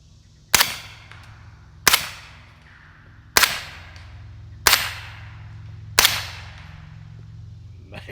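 Five suppressed rifle shots from a small AB Suppressors F4 with 147-grain ammunition, sharp cracks spaced a little over a second apart, each trailing off quickly into quiet outdoor background.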